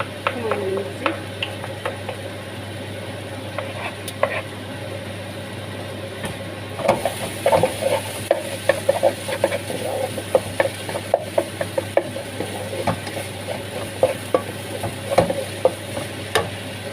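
Onions frying in a pan for a chicken dish give a steady low sizzle, then a run of sharp clicks and scrapes from stirring in the second half.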